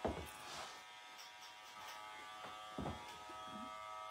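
Electric hair clippers cutting short men's hair over a comb during a fade haircut, a steady close buzz running throughout with small shifts in tone as the blade passes.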